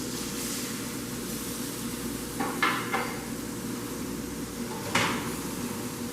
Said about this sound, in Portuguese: vou colocar a nossa cebola ralada para começar a refogar